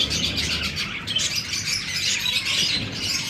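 A colony of Australian parrots in a hot aviary chirps and squawks continuously, many birds calling at once in a busy, high-pitched chatter with no voices.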